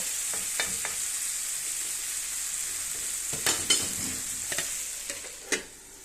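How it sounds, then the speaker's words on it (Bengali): A spoon stirs leafy greens frying in a pan. Soft sizzling runs under a scatter of sharp scraping and clinking strokes that come in short irregular bursts, louder toward the end. "শাকটা আমি দেওয়ার পরে চামিচ দিয়ে ভালো করে লাইড়া নিতেছি"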